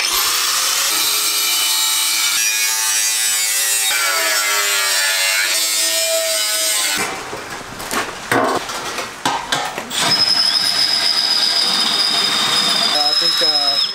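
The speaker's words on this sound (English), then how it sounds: "we're going to cut some slots in where the fire's going to sit so the fire can breathe and burn" A cheap power drill bores angled slots into wood for a hot tub fire, a loud continuous grinding and rasping that shifts in pitch, briefly interrupted midway before resuming steadily.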